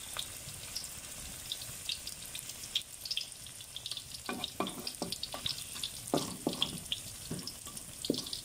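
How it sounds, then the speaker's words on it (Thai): Battered pumpkin fries in a little oil, giving a quiet, steady sizzle broken by scattered pops and crackles that grow busier toward the end, with no one talking. "ใส่น้ำมันน้อยนะคะน้ำมันไม่มากฟักทองชุบแป้งทอด"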